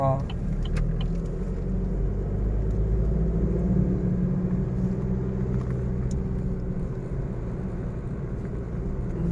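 A manual-transmission pickup truck pulls away and accelerates along a narrow road, a steady loud engine rumble and road drone running throughout, with talk over it.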